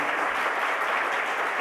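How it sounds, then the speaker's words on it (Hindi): An audience claps continuously through a short burst of dense, even applause during a Jain religious discourse. "उनके लिए भी आप तालियां बजा दो कम से कम"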